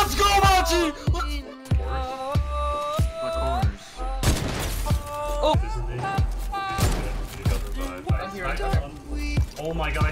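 Sniper rifle shots ring out in a Fortnite match, with repeated sharp cracks and booms over game music and a busy battle mix.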